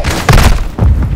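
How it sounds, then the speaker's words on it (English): Grenade blasts in Call of Duty: Modern Warfare II, two heavy booming thuds close together, loud and near, with low rumble trailing each hit. "Grenade!"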